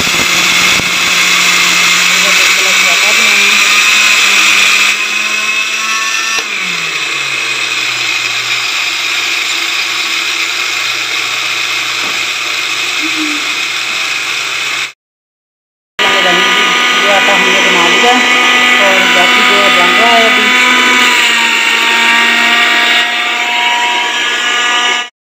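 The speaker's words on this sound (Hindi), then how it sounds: "बर्फी के लिए जो चावलों का आटा बनाना था बन चुका है, ग्राइंड हो गया है" A kitchen mixer grinder grinds cooled rice into flour for barfi, whirring loudly and steadily, with the motor pitch dropping partway through. After a brief pause it runs again.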